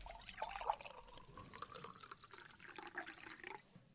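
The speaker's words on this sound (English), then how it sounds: "Tom, can you fill it with water from the jug for me, please?" Water poured from a jug into a glass, a faint continuous trickling and splashing that runs for a few seconds in a quiet room.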